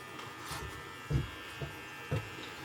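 Electric clippers set to a number 9 guard buzz faintly and steadily against a beard, with a few low thumps as the trimmer moves over the face; no one speaks.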